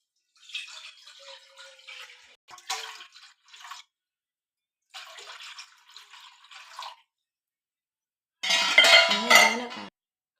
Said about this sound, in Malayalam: ഇങ്ങനത്തെ ഒരു പാൻ എടുത്തിട്ട് അത് ഇതിലോട്ട് വെച്ചിട്ട് കുറച്ച് വെള്ളം ഒഴിക്കണം.